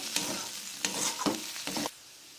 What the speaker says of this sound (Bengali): অল্প একটু চিলি ফ্লেক্স দিলাম এটাকে ভালো করে নাড়বো